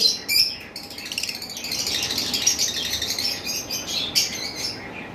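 A pair of albino pet birds, one red-eyed and one black-eyed, keep up close, busy chirping and twittering in a cage, with bright calls layered over a steady background hiss.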